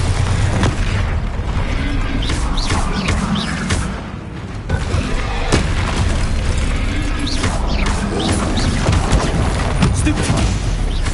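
Hogwarts Legacy combat with the Bombarda explosion spell: loud, dense booms and crackling blasts pile up continuously, with sharp impacts punctuating a heavy rumbling roar and shouted voices over the din.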